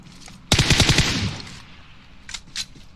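A loud burst of rapid automatic fire in PUBG Mobile rings out close, then tails off into a decaying echo, followed by two fainter separate shots.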